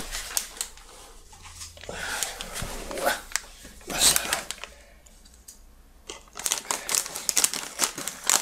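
Packaging of a 1/6 scale Thor Ragnarok action figure torn open by hand, with loud close crinkling plastic and cardboard, sharp clicks and snaps in bursts, and a voice speaking in between.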